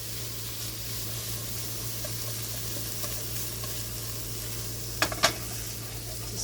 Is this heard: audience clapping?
no